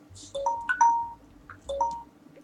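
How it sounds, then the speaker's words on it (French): Short electronic beeps from a mobile phone, a few tonal chirps in quick succession, fairly close and clear with no talking over them. "Ce petit bip bip vous était offert par mon téléphone"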